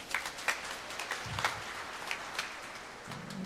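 A congregation at a Filipino church homily claps loudly, a diffuse wash of many hands with scattered sharper claps standing out, fading slightly toward the end as a low hum enters.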